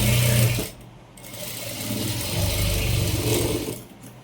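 Sewing machine stitching a princess blouse, a fast mechanical whirring run of stitches after a short pause, steady and close, with no talking.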